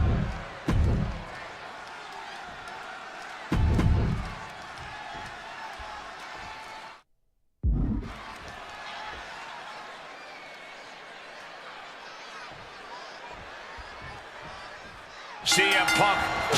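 A large arena crowd in a WWE 2K26 wrestling match in Chicago roars in a steady wash of noise, with sharp slam-like bursts and a brief dropout, then swells again near the end.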